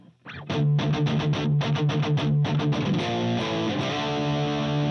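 A heavily distorted electric guitar tuned down a half step chugs a fast palm-muted riff, then lets low chords ring out, loud and close with no voices.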